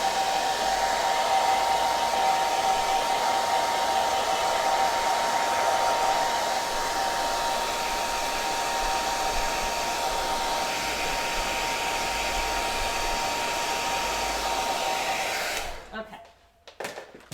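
A hair dryer blows steadily on a watercolor painting, a loud continuous whir with a faint tonal hum that holds for about fifteen seconds and then cuts off abruptly, leaving near silence.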